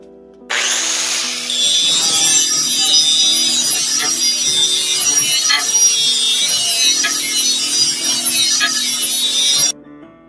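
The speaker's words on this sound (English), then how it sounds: "I use just an angle grinder, and as you're sharpening the edge here" An angle grinder sharpens a lawn mower blade with a loud, steady high whine and gritty grinding of metal, starting abruptly and running for about nine seconds before cutting off.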